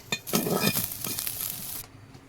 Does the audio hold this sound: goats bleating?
no